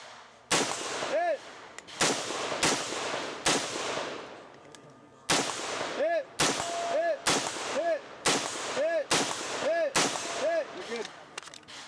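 Sharp gunshots at a 2-gun club shooting stage, fired in quick irregular bursts of single cracks with short pauses, each followed by a ringing metallic clang of steel targets being hit, loud and close.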